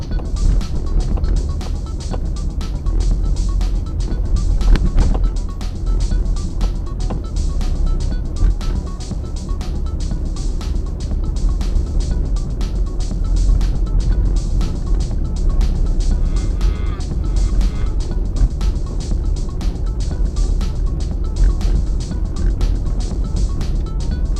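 A car driving straight along a city road toward Kanchanaphisek Road, heard as a loud, steady engine and tyre rumble from inside, continuous throughout with faint ticking and no speech.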